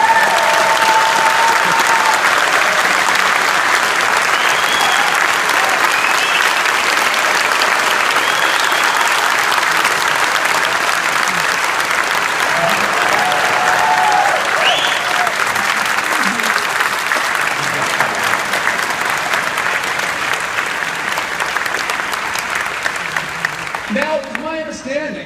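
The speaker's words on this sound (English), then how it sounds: "the remaining 30 seconds of my speech, which will consist mostly of applause" Sustained audience applause fills the room after a speech, a dense, steady clapping from a large crowd that holds loud throughout and thins slightly near the end.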